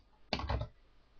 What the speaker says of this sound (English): Now what I need to do here is type in tax payable